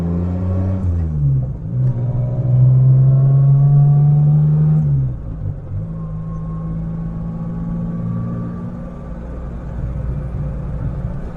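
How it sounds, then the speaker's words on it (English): A 1985 Suzuki Mighty Boy with a clicky, tappety engine idles with exhaust burble: a low, steady hum that swells briefly in the middle, then settles back to a continuous near idle with no talking. "It's a very clicky and tappity engine, this one, which I can hear over the exhaust when it's at idle"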